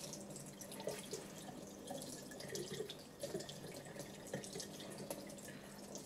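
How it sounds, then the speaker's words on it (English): Water runs steadily from a tap over polishing samples being washed between stages on a TopTech Plato R Series grinder-polisher, a continuous faint splashing and dripping with no talk. "it is critical that samples are thoroughly washed to prevent cross-contamination"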